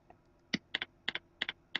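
Computer keyboard keys pressed in short bursts, roughly seven crisp clicks spaced unevenly, some in quick pairs, close and clear with no voices.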